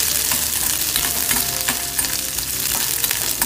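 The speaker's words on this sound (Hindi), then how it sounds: "तुरंत ही उसके ऊपर हम डालेंगे ये स्लाइस प्याज, इसको फ्राई करना है" Sliced onions hitting hot oil with whole spices in a pan for Maharashtrian dhaba-style masoor fry, a loud, dense, continuous sizzle and crackle heard up close with no voices.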